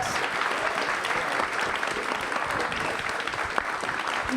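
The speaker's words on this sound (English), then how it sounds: "Can we get a big round of applause for Brian, Kevin, and Bennett?" A conference audience applauds steadily and loudly at the close of a gaming content-creator panel, a dense, even wash of many hands clapping throughout.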